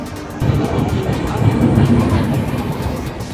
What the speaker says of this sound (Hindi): 2 मिनट होल्ड के बाद अपनी ट्रेन का डिपार्चर हो चुका लाभा रेलवे स्टेशन से